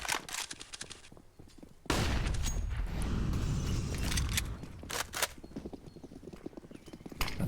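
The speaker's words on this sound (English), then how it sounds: "That's a lot of footsteps being heard." Quick, rhythmic footsteps from a professional Counter-Strike: Global Offensive match on the Inferno map patter close by, broken by loud bursts of gunfire partway through.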